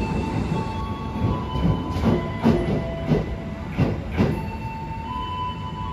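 A passenger train, the Manahan executive service from Solo to Jogja, rolls along the rails with a steady rumble and rhythmic clickety-clack beats recurring about once a second, heard from inside, no voices.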